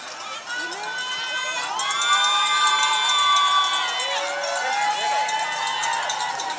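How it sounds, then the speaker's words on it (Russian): Spectators shout and cheer along the course of the Los Angeles Marathon, with loud overlapping voices and high whoops from children and adults forming a dense, continuous near crowd roar that swells and fades over several seconds. "тут кричат все, непонятно, что происходит"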